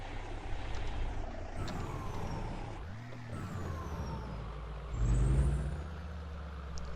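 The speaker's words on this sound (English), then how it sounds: "We'll wake everybody up with our engine brake." Heavy truck in Euro Truck Simulator 2 pulling into a parking spot, engine droning steadily as it slows, then a louder low rumble and hiss near the end like an engine brake or air brake.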